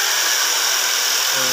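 Electric jigsaw cutting through plywood, a loud, steady high-pitched buzz of the blade, close up and heard alone.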